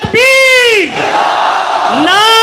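A crowd at an Urs religious gathering roars a slogan in unison, loud rising-and-falling chanted shouts in two bursts separated by a brief lull of murmuring voices.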